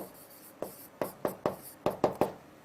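Pen scratching out a note on paper, eight or so short close strokes in uneven bursts, crisp and alone.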